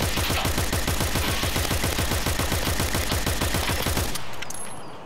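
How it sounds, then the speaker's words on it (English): Rapid automatic gunfire laid down as suppressive shots in an Escape From Tarkov raid, a long, steady, loud burst of evenly spaced shots lasting about four seconds before cutting off into quiet. "Bro, I'm sending out suppressive shots."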